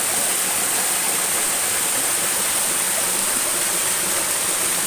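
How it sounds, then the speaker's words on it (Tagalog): Stream water flows steadily near a cave, a continuous broadband rushing and gurgling with no pauses and no voices. "kita nyo naman yung daloy ng tubig"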